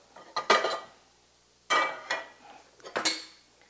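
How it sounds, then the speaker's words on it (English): A cooking pan shifted on a stovetop for an omelette, giving three separate bursts of metallic clanks and scrapes, close and fairly loud, with quiet gaps between them and no talking. "Let's move this pan."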